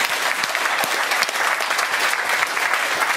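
Audience applause at an education conference talk show, steady dense clapping from a sizeable crowd filling the whole stretch at even loudness.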